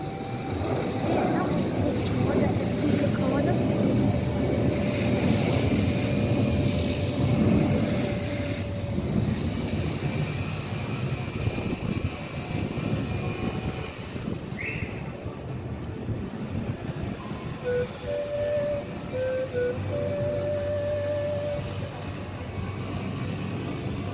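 A passenger plane takes off at Allama Iqbal International Airport in Lahore, heard as a broad, steady jet roar at a distance. People talk over it throughout.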